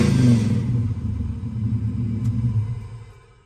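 A 1969 Camaro restomod with an LS3 V8 starts and settles into a deep, rumbling idle, loud at first and then steady, heard close with no talking.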